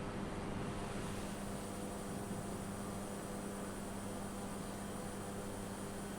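Cessna 208B turboprop engine droning steadily at climb power in Microsoft Flight Simulator, a constant broadband roar with a low hum, loud and unbroken throughout with no talking.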